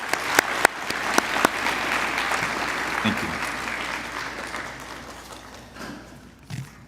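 A few sharp individual claps, then a full round of audience applause at a high school biliteracy seal ceremony that swells and gradually fades, with a brief spoken voice near the end.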